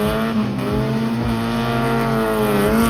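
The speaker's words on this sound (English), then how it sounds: "we're about to go on a ride in the NA M Edition supercharged Miata" A supercharged NA-generation Mazda Miata M Edition engine revs steadily and loudly up close, its strong harmonic drone holding throughout with slight rises in pitch and no talking.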